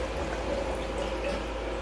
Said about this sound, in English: both sinks are like filling up, and there's like debris in the water